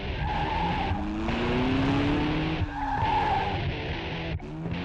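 A police cruiser speeds off with its tires skidding and squealing loudly and continuously, the engine roaring close by, with no voices.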